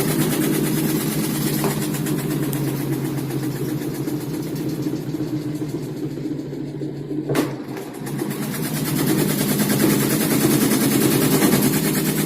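An LG 8.0 kg washing machine with a worn gearbox runs off balance, giving a loud continuous rumbling drone with rapid rhythmic knocking, a sharp clunk midway, then the vibration swells again.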